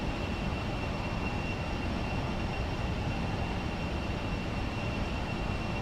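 A Boeing C-17 in the X-Plane 11 flight simulator descends with its flaps set, and its engines make a steady, loud, broadband roar with a faint high whine running through it, constant for about six seconds with no talking.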